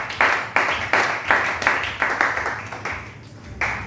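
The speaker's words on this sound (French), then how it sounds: "On acclame le Seigneur." A congregation at a church service claps and cheers in praise of the Lord, rhythmic bursts of group clapping rising and falling in waves, fairly close and loud, with no distinct talk.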